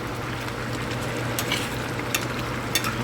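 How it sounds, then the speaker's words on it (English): Jamaican curry chicken being stirred in a pot, a steady bubbling sizzle with a low hum beneath and a few scraping strokes of the spoon, close and continuous with no talking. "Give it a next stir so it doesn't stick"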